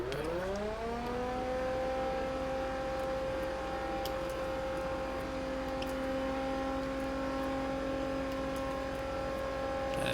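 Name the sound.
car engine accelerating in The Crew video game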